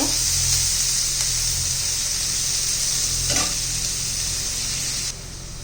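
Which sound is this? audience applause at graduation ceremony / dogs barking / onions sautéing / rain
onions sautéing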